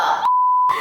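A short steady electronic censor bleep cuts sharply into and out of a man's speech, loud and close, covering a profanity for under half a second.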